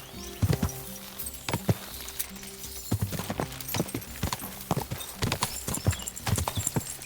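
Horse hooves clip-clopping in Kingdom Come Deliverance 2, an irregular run of close, loud thuds with a brief whinny-like sound and no talk.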